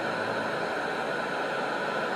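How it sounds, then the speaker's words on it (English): Steady, even hiss of white noise from a FamiSym Pixie Pro sound machine, broad and constant at full volume with no pauses or talking. "Now with the sound, we're using white noise sound."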